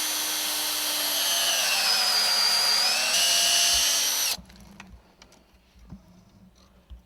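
A power drill bores a tap hole into a maple tree, a loud steady high whine for about four seconds before cutting off, leaving quiet outdoor ambience with faint knocks.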